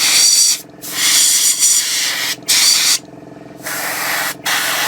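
Airbrush hisses air and paint onto a Takom 1/35 scale Chieftain Mk10 model tank, loud close bursts of spray broken by short pauses, steady and continuous between each gap.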